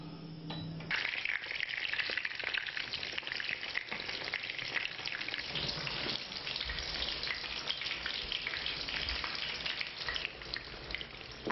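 Steady, loud sizzling of salted, rinsed eggplants frying in hot oil, continuous crackle and spatter throughout with no voices.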